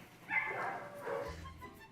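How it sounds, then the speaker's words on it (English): Dogs bark faintly in an animal shelter kennel, with several muffled, distant barks and yips echoing over a hollow room tone. "Every one of these dogs is ready to go and ready for adoption."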